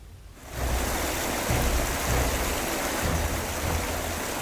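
Floodwater in Saharsa, north Bihar, streams steadily across submerged roads and fields, a broad continuous rushing wash that swells in after a quieter first half-second and holds loud and even with no voices.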